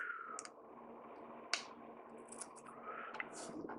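Paper being trimmed for a skydiving papercraft model, with a few quiet scissor snips and clicks spread out over a soft background hiss, close by and fairly faint.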